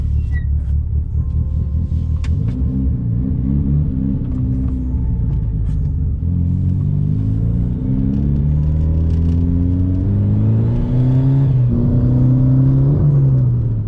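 A Mitsubishi Evo running on speed density without boost drives steadily from inside the cabin, its engine droning loudly and rising through a couple of gear pulls with constant road rumble.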